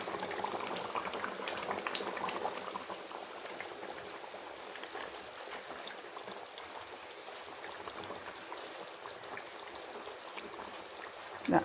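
A jackfruit and chicken curry boils down and thickens in the pot. Continuous, dense bubbling and popping sound close by at a moderate level, with no speech.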